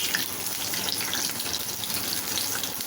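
Baby corn sizzles steadily in hot oil on medium heat after being turned over in the pan, a dense, continuous hiss close up with no talk.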